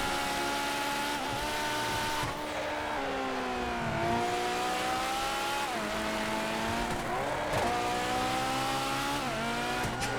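Fast car engine in the video game GTA FiveM, revving continuously with repeated gear-shift dips and climbing pitch, loud and near, with brief tire noise and no talking.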